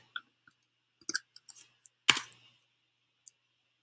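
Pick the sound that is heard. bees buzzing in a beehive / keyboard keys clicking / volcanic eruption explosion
keyboard keys clicking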